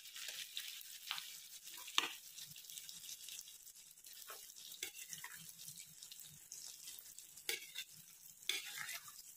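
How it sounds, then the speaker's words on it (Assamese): Olives for pickle fry in a pan on lowered heat, a steady soft sizzle broken by repeated scraping stirs and occasional sharper clinks of the spoon, fairly close and with no talk. "এইখিনি প্ৰায় 5 মিনিটৰ পৰা 8 মিনিট মান সময় এইদৰে ভাজিব লাগিব।"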